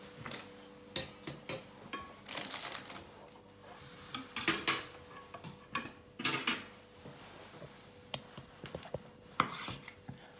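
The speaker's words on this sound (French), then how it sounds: "Donc je vais déjà couper mes tranches de roast beef." A knife cuts slices from a rare roast beef, giving irregular clicks and scrapes of blade on plate or board, close and fairly quiet, with no talk.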